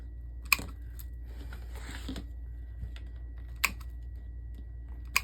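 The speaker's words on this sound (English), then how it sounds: "now we're just going to cut the zip ties off" Zip ties are snipped off a Halloween lantern in a few sharp, separate clicks spaced over a few seconds, close and fairly quiet against a low background hum.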